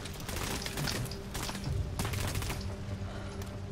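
Gunfire in the video game Medal of Honor Warfighter, dense and continuous, with overlapping shots and thuds filling the whole stretch at steady loudness.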